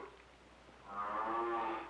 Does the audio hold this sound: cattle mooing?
yes